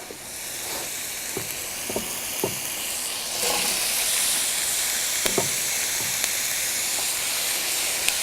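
Chopped onion sizzles in a hot pan with a constant close hiss that grows slightly louder midway, broken by occasional clicks and scrapes from stirring, and no talking.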